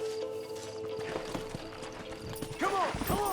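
Horse hooves clip-clopping toward the listener in Red Dead Redemption on PS3, steady galloping beats under game ambience, ending in a loud neigh near the close.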